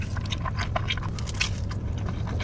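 Bites and chewing on a large New York style Domino's pizza slice, a run of close, crisp crunches and mouth sounds repeating steadily over a low background hum.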